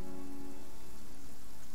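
Steady rain patters down in Genshin Impact, a dense even hiss of drops continuing without a break and with no voices.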